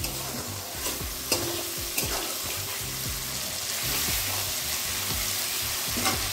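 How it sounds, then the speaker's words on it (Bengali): Tomato frying with turmeric in a pan while being stirred, a soft continuous sizzle broken by repeated scraping and clinking strokes of the spoon at an uneven pace. "টমেটোটা আমি 1 মিনিট একটু নাড়িয়ে নিলাম।"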